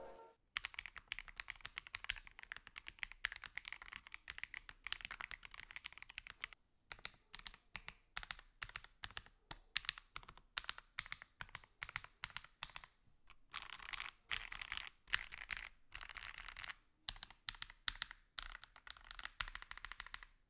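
Typing on a FancyAlice66 mechanical keyboard fitted with plate foam, a steady run of close, crisp keystrokes in quick irregular bursts with brief pauses, heard alone without any voices.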